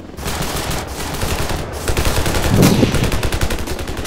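Continuous gunfire in the Ravenfield combat game, a loud, steady clatter of rapid automatic shots with heavier blasts mixed in, running throughout without talk.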